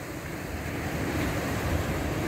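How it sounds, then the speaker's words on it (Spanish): Sea waves breaking steadily on the beach at Gavá during early-morning surfcasting, a continuous broadband surf roar with some wind noise on the microphone, moderately loud and unbroken, with no one talking. "El mar tiene un magoncito guapo. Ha movido."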